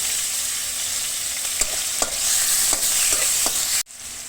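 Garlic being stirred into lightly browned onions frying in a pan, a steady close sizzle with several soft stirring scrapes, ending in a sudden drop to quiet.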